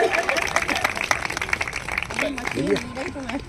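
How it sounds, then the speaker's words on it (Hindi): Audience applause at a government benefits event in India, a crowd clapping steadily under loud talk from a speaker, with a voice running over the clapping throughout. "एक बार पूरा जोरदार तालियों से स्वागत, वंदन, अभिनंदन"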